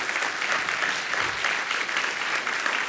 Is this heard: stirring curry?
no